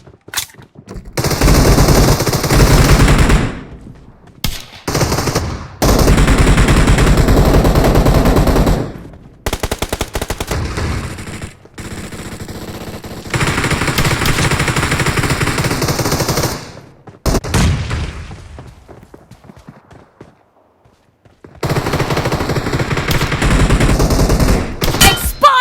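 Rapid bursts of gunfire from a shotgun quick match in a shooter video game crackle in long loud volleys, separated by short silent gaps.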